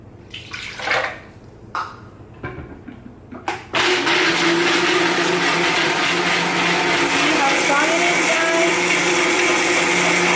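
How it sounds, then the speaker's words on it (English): A few knocks and clunks come first, then a Vitamix blender roars on loudly and runs steadily, whirring cake batter for a vegan chocolate strawberry cake. "I'm using the Vitamix, and this is so great"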